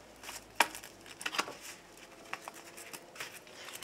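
Tarot cards shuffled by hand in a quiet room, a few crisp riffling bursts and soft shuffling patters, close and faint, with no talking.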